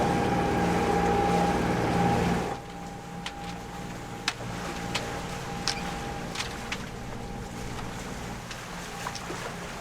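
A sailboat motoring at night, a steady engine hum with a high whine that drops abruptly partway through, then a quieter low rumble broken by scattered sharp knocks.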